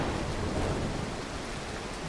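A thunderstorm with rain in the stealth game Mark of the Ninja: dense, steady hiss of rainfall with a low rumble beneath, continuous and fairly loud, no voices.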